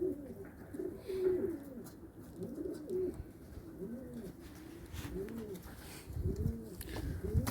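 Several Arabian pigeons coo in soft, rolling phrases that repeat through the clip, close by, with faint background noise and no talking.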